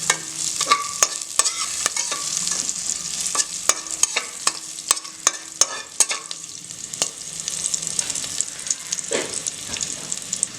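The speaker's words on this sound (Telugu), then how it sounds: "సో మనకి జీరా ఇలా స్ప్లాటర్ అయ్యే వరకు మనం ఫ్రై చేసుకోవాలి." Cumin seeds fry in a pan for jeera rice with a continuous crackling sizzle, broken by sharp, irregular pops and taps as the seeds splutter, close and fairly loud.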